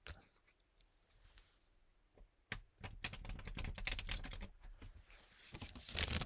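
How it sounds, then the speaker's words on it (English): Crisp, rapid riffling and clattering of cards, starting with a few soft taps and building into a dense, loud flurry of flicks up close. "we did the final shuffle, melding together the cards."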